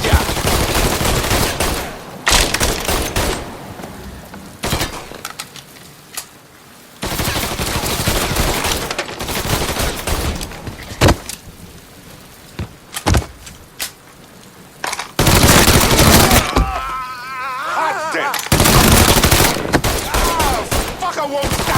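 Gunfire in the Mafia 3 video game comes in loud, dense bursts of automatic shooting and rapid shots, broken by short quieter gaps, with shouted voices mixed in during the firefight.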